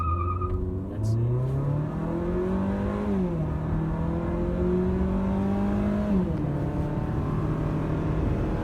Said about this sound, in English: now that we're entering the highway, let's do a 0 to 60